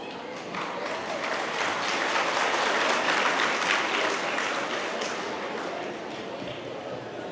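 Dense, steady clapping from an audience at a youth festival gathering in Solapur fills the whole stretch, loud and continuous, with voices mixed into the crowd noise.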